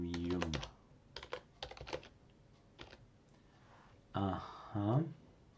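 Quick bursts of keystrokes on a computer keyboard enter a terminal command on Ubuntu 18.04, broken by pauses, with someone speaking briefly near the end.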